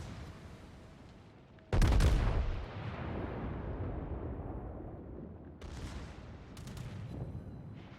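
The battleship Iowa's main guns fire a single heavy, booming salvo in the World of Warships naval game while shelling an aircraft carrier, followed by a long rumbling decay and then sharper impact cracks from shells landing.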